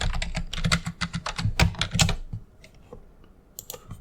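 Quick keystrokes clatter on a computer keyboard while logging in during a CentOS 8 Linux install, as dense rapid bursts of close clicks that thin out into a few scattered taps.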